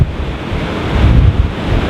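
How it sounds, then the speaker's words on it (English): Sea waves crash onto the shore while fishing at Blackpool, a loud continuous roar of surf mixed with heavy wind buffeting the microphone, swelling midway, with no talk. "waves are crashing in"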